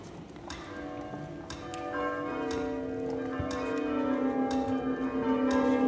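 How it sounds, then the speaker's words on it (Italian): A new bell rung during a theatre play, full and robust, with repeated clear metallic strikes at a steady pace and ringing tones that hang and build over several seconds. "Una campana nuova! È vero? È piena e robusta!"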